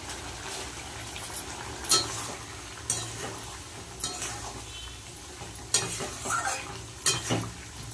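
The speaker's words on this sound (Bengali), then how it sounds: "সবজি দিয়ে মশলা দিয়ে কষিয়ে নেব" Vegetables with spices, salt and turmeric fry in a pan, with a constant low sizzle broken by several scraping stirs and metallic clinks of a utensil against the pot.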